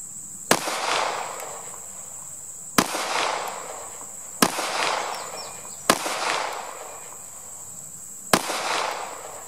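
Five loud, sharp pistol shots from a CZ P10C fitted with notch sights, fired at 10 yards with cheap ammunition at an outdoor range, spaced about two seconds apart, each cracking and then trailing off into a brief echo.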